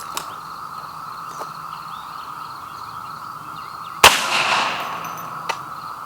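A .458 SOCOM rifle firing a heavy subsonic bullet, heard as one sharp, fairly subdued shot cracking over a steady background hum, followed by a brief fading tail and a faint later tick.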